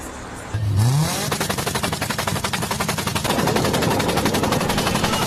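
A Citroën Xantia with a torn exhaust blasts out a harsh, rapid machine-gun-like rattle after a quick rev, the loud staccato pulses continuing steadily up close.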